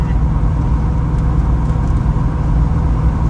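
A 1968 Dodge Charger with a Gear Vendors overdrive cruising at about 60, its engine giving a steady, loud low drone with road noise and no change in pitch.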